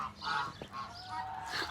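Geese honk repeatedly in uneven bursts at a farm kept with chickens, fairly close and loud, with several overlapping calls and no talk.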